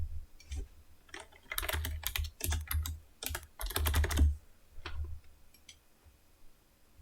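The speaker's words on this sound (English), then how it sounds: "I'm typing in my credit card information." Rapid, irregular bursts of typing on a computer keyboard, with clustered keystrokes separated by short pauses, close and fairly loud, with no talking.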